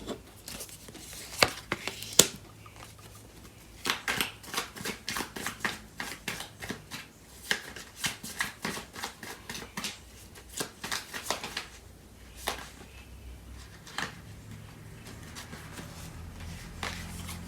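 Tarot cards are shuffled by hand up close, giving repeated quick riffling and flicking bursts with short pauses between them and no talk.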